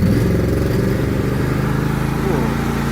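A John Deere L118 lawn tractor engine, suffering from blow-by, cranks and catches, settling into a loud, steady chugging idle that stays close and continuous throughout.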